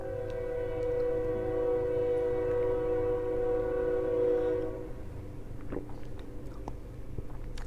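A passing train sounds a long, steady horn for several seconds, then the horn stops and a continuous low rolling rumble of the train carries on, heard from a moderate distance.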